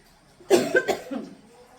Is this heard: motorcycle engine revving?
no